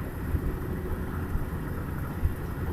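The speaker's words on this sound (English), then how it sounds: "And it's starting to rain too." Steady light rain falling outdoors, a dense soft patter with faint low rumbles, continuous and even throughout.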